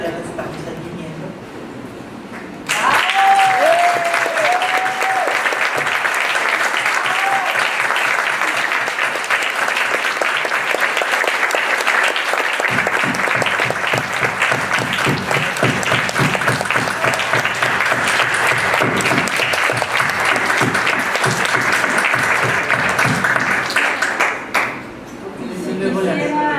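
Sustained applause from an audience at a feminist press event, honouring collaborators who stand; dense clapping starts abruptly and holds loud and steady for over twenty seconds before tapering off.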